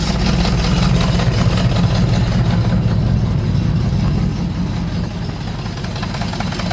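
A car engine idles steadily up close, a loud low rumble with a faint rhythmic pulsing that eases slightly in level toward the end.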